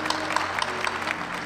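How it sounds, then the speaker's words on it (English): A brief burst of audience applause for a gospel choir at a university Founders Day convocation, with many hands clapping together in a dense, steady patter. "let's give the Southern University Gospel Choir another round of applause"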